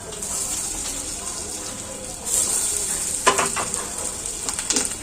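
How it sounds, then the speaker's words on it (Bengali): Semolina-stuffed snacks dropped one by one into hot white oil, a steady hiss that swells as they go in, with a few clinks and stirring sounds close by. "তেলটা গরম হয়ে গেছে অনেকটাই গরম হয়েছে এবার আমি এই সুজির পুরভরা দিয়ে দিই একটা একটা করে"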